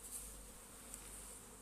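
Honey bees buzz faintly in front of beehives in spring, a soft, continuous distant hum with no talking.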